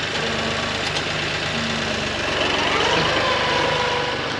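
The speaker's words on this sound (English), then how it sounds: "This is Gavin's first time driving that tractor" A farm tractor engine runs steadily at close range, a continuous low mechanical drone with a slight rise in revs partway through.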